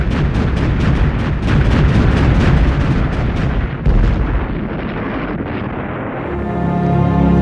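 A massive World War I German artillery barrage opens fire along the Western Front, a dense rapid rhythm of loud booming gun reports rolling together into continuous thunder before thinning out into a lower sustained rumble.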